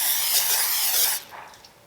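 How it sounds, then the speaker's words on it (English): Cooking spray hisses steadily into a crock pot for about a second, a bright close aerosol rush that cuts off abruptly and leaves faint rustling. "I'm gonna spray it really good."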